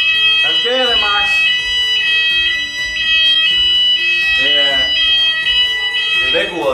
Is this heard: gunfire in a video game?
no